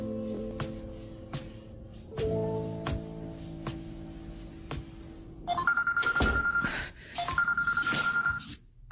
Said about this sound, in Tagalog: Yuan, ba't ayaw mong sagutin?